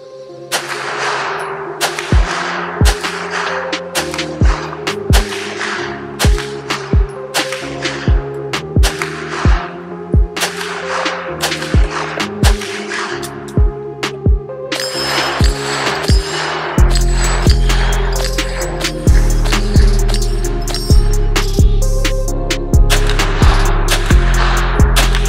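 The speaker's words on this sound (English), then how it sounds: "let's continue shooting" Gunshots ring out at a range from a gun fitted with a Feyachi V90 red dot sight: a long series of sharp, loud cracks at uneven intervals, each with a short echoing tail, and a steady low rumble joins in later.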